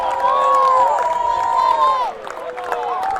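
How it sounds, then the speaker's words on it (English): Large sellout crowd cheering and roaring at a professional baseball game in a stadium, loud and sustained, with a dip and swell near the end and an announcer talking over it. "There's the crowd."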